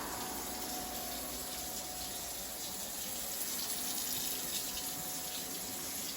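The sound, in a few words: hot water running into a large Rubbermaid bin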